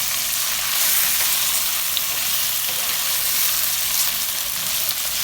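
Mutton fries in a pan with browned onions, producing a loud, continuous crackling sizzle that stays steady from start to finish with no voices.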